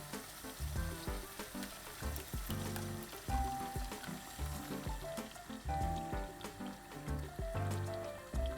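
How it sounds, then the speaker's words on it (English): Spaghetti sauce is poured into a hot pot, sizzling and bubbling with irregular splashes and clinks, quiet and close, without talk. "For the next step, we open the sauce. We pour all of it inside."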